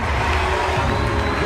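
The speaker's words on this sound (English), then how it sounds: "what happened next made the crowd go wild" A crowd cheers loudly at a basketball tournament, a dense, continuous roar of many voices filling the whole moment with no pauses.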